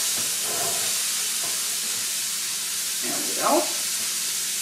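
Food sizzles and hisses in a hot pan, a steady bright frying hiss with a brief louder burst near the end, and a voice speaks briefly over it.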